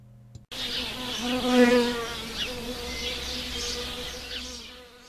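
Close, continuous buzzing of leafcutter and mason bees, solitary British megachilids, a steady droning hum with shifting pitch that starts abruptly after a brief silence and fades slightly toward the end.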